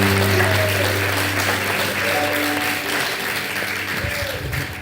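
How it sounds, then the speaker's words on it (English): Wedding guests applaud steadily in a reception room, a sustained round of clapping with a faint low hum of music or voices underneath, easing slightly toward the end. "which I think deserves a bit of a round of applause."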